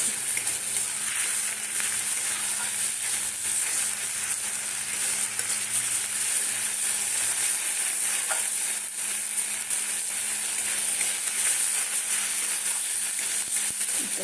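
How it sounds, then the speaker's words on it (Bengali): Ginger, garlic and spices with capsicum sizzle and crackle in hot oil for butter paneer, a continuous frying hiss with occasional scraping from stirring, close and steady throughout. "এই মশলাগুলো সুন্দর ভাজা হয়ে যাবে"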